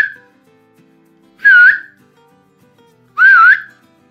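A person whistles two short, clear, rising-and-falling notes, about two seconds apart, to trigger a keychain key finder; each note is loud and close, with quiet between them.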